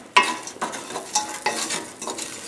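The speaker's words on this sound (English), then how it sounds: "I'll stir it every couple of minutes." Prosciutto ham frying in a pan is stirred in about five distinct scraping strokes, each followed by a soft sizzle, close and clear with no talking.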